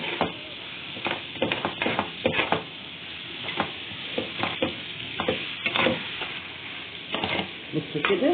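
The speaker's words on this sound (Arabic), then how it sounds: "تقليبه حلوه بقى كده، يتشوح كده مع بعضه" Food is stirred and sautéed in a home kitchen pan, a steady sizzle broken by repeated scraping strokes of a spoon against the pan.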